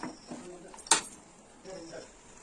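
Chicken pieces with tomato being stirred in a metal cooking pan for a Tamil-style chicken kurma, soft scraping and shuffling with one sharp clink of utensil against pan partway through.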